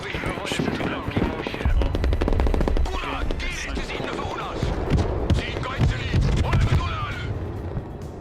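Rapid automatic gunfire and bursts of shots in the video game Broken Arrow, loud and dense over several seconds with overlapping voices and game radio chatter.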